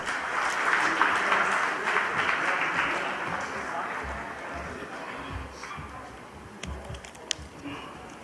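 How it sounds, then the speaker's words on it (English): An audience at a conference on the Bay of Bengal gives a big round of applause to welcome a speaker, sustained clapping that fades gradually, with a few voices underneath. "let's welcome Mr. Jillur Rahman with a big round of applause"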